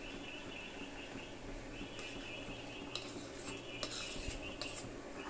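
A hand whisk stirs mango pulp into hot sugar syrup in a metal pot, with quiet scraping and swishing and sharper clinks of wire against the pot toward the end, close and without talk.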